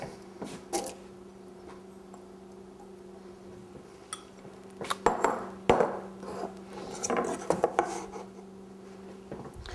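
Potatoes, onions and celery dropped into a soup pot at home, a few soft thuds and clattering knocks against the pot over a low steady hum, some near and sharp, others muffled.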